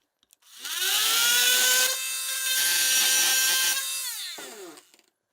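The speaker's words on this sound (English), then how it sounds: "what if I cut it with a Sawzall and there's no nails sticking up?" A reciprocating saw rips through nailed wood in one continuous cut lasting a few seconds: a loud, close, buzzing drone whose pitch wavers slightly, then winds down as the blade stops.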